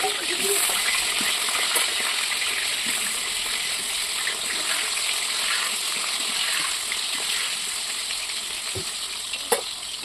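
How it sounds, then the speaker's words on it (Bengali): Potatoes frying in hot oil in a kadai, a steady dense sizzle close by with a few faint clinks, no speech over it. "এই যে এবার একে একে আলুগুলো ছেড়ে দিলাম। আলুগুলোকে লাল করে ভেজে তুলে নিতে হবে।"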